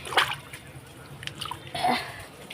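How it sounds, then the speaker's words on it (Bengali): Tap water runs and splashes in short bursts as hands are washed in a home kitchen, soft and close with brief pauses between the splashes. "আমি আবার একটু হাতটা ধুয়ে নিই"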